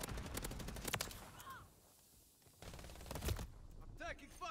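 Rapid assault rifle bursts crackle in Modern Warfare 3 multiplayer combat, loud fusillades in quick succession with a short lull in the middle, then renewed firing and mechanical clicks.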